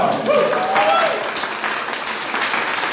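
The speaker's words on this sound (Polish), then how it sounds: "brawa!" Concert audience applauding at a Valentine's concert in a municipal culture house, dense steady clapping throughout with a few voices calling out over it.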